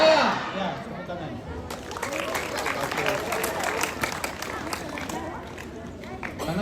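Audience applause in a crowded gym at the opening of a school basketball tournament, sustained clapping and crowd noise filling the space after a loud opening moment.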